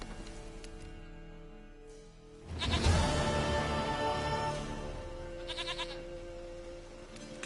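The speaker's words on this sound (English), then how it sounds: "Goat of mine, dearest, sweetest goat." Goat in the video game The Witcher 3, bleating in a loud, wavering cry of a few seconds after a quieter musical backdrop, then a shorter bleat follows.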